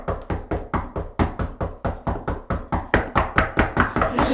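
Knuckles rapping on a room door, a steady run of about fifteen sharp, evenly spaced knocks close by with no talk over them.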